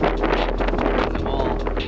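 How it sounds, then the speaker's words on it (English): Strong wind buffets the microphone outdoors with a constant loud low rumble and gusty roar that stays dense and steady throughout, with no clear speech over it. "Really windy in the Rockford."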